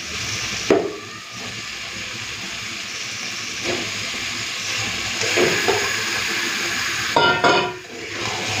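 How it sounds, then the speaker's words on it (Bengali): Mutton pieces hit a pan of well-fried spices, with bursts of sizzling and hissing over a steady frying background and a few clattering stirs, no talk. "মশলাটা ভালো করে কষে নিয়েছি, মাংসগুলো দিয়ে দেবো।"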